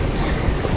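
Rushing roar of an ocean wave washing in, loud and close with wind buffeting the microphone.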